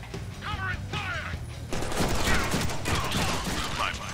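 Gunfire in a Deadpool movie scene comes as dense, rapid bursts of shots with clattering mechanical noise, loud and sustained over a few seconds while voices shout amid the chaos.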